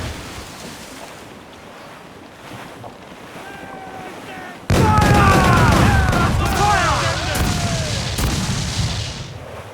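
Naval cannons fire from a sailing warship in Assassin's Creed 4 Black Flag, a sudden loud broadside booming over wind and ocean waves, followed by rumbling and shouted voices.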